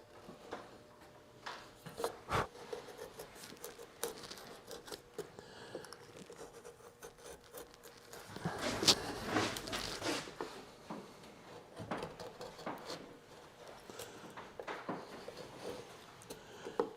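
A chisel carving a spiral seashell, giving soft, close scraping and paring strokes with occasional sharper taps, fairly quiet and irregular, growing busier partway through.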